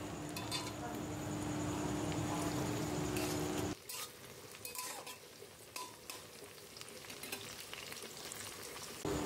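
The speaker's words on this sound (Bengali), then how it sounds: "দিয়ে একটু নাড়াচাড়া করে একটুখানি মিশিয়ে নেব, এতে করে টমেটোটাও সেদ্ধ হয়ে যাবে" Tomato sizzling and being stirred into a fried onion and spice mix in a pan, a steady loud fry that drops noticeably after a few seconds, with scraping and clinks of a utensil throughout.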